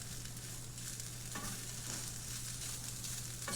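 Green chilies being stirred into enchilada filling in a pan on a hot stove burner, a faint steady sizzle with a couple of soft stirring scrapes, no voices.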